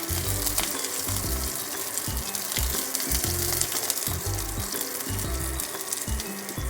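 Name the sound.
mustard seeds and curry leaves sizzling in oil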